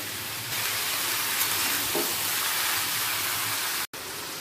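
Snake gourd and potatoes sizzle steadily in a hot pan while being stirred, a dense, continuous frying hiss up close with faint scraping and a brief dropout near the end; no voices.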